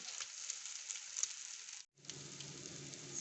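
An egg and vegetable omelette for a sandwich sizzles quietly in a pan, a soft steady hiss broken by a brief silent gap, then continuing with a little low clatter.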